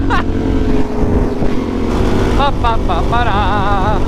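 A Suzuki DRZ400 supermoto motorcycle engine drones under the rider while moving, loud and close, with wind rushing over it; partway through, the engine note swings up and down in quick repeated revs.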